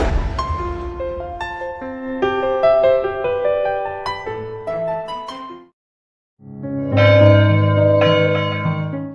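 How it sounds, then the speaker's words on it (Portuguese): Church bells peal in a full, reverberant cascade of overlapping tones on a Saturday morning, pausing briefly before a second loud round of ringing resumes; no voices. "A cidade acordou com o repicar dos sinos."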